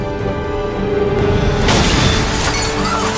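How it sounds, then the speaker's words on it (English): A low rumble builds, then a sudden loud burst of debris and shattering noise erupts and roars on without letting up. "An explosion shatters the moment of joy."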